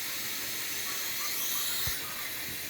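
A pot of okra, Malabar spinach, potato and hilsa fish curry heats on a stove over high flame, giving off a soft, steady steam hiss with a faint low thump partway through.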